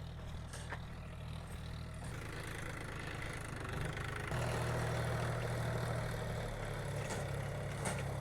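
A tractor engine idles steadily nearby with a low, constant rumble that grows slightly louder partway through.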